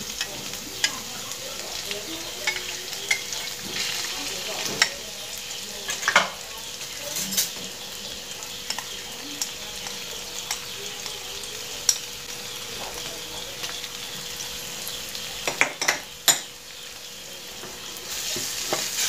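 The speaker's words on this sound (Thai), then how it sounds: "คนเลยครับ คนให้เข้ากันเลยผัดให้เข้ากันเลยครับ" Clams and roasted chili paste are stir-fried in a pan over low heat, a continuous soft sizzle with scattered scraping and clinking of the spatula against the pan, close and without speech.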